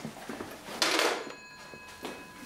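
A telephone rings out repeatedly with no one picking up, a fairly quiet electronic ring sounding in bursts against a room background, with no voices.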